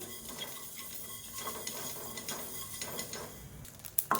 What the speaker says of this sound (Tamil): இப்போ பாருங்கள், கடுகு நல்லா வெடிக்க ஆரம்பிக்குது.